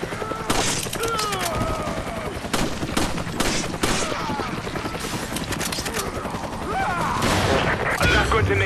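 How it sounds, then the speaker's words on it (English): Gunfire in the video game Resident Evil 5 crackles in bursts and rapid volleys amid other game effects, with players talking over the shooting. "hear gunfire"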